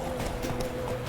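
Horse hooves clip-clop in quick succession while galloping in The Witcher 3, a steady rhythmic patter close up over a constant game soundscape with a low hum.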